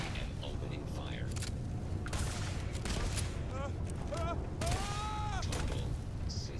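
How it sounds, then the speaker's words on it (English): Starfield spaceship weapons open fire in a steady, dense barrage of rattling shots, with whining laser-like zips and a swooping tone rising out of the din. "Opening fire."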